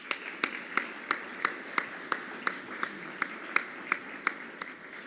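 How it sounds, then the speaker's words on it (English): Audience applause at the ART&TUR Aveiro 2021 awards session, a steady crowd wash with a few sharp, regularly spaced claps standing out near the microphone, sustained for several seconds at moderate level with no talk. "Please, an applause"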